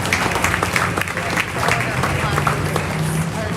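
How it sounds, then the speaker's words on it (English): Crowd at a county fair junior beef show applauds in a sustained, even patter of many hands, moderately loud, with a faint voice or animal sound low underneath. "Let's give them all a big round of applause."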